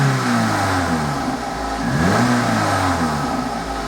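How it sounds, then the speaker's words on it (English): A Vauxhall Corsa engine is revved up and down while stationary, its pitch rising and falling in loud, close sweeps over a continuous running drone. "Maybe a bit of revs."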